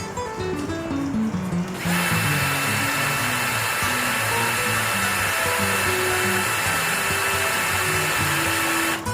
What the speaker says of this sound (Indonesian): Menggunakan mata bor besi ukuran 7 mm